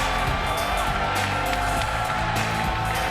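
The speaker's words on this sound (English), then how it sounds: "Listen to this crowd!" Loud, sustained cheering fills a TNA wrestling arena as the crowd whoops and roars for Booker T, a dense, unbroken wash of voices with scattered shouts rising above it.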